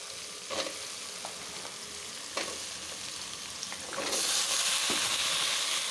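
Mixed vegetables and green chilies frying in a pan with dried fish give a steady sizzle with light stirring scrapes, swelling into a louder, hissing fry partway through.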